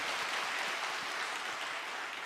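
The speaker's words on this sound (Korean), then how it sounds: "주님께 영광의 박수 올려드리도록 하겠습니다" A church congregation claps together at an autumn special dawn revival service, steady continuous applause filling the room with no voices over it.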